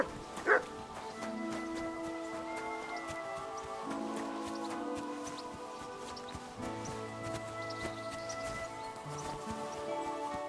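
A dog in the video game Kingdom Come: Deliverance 2 gives one short bark near the start, then whimpers softly over a steady ambient background.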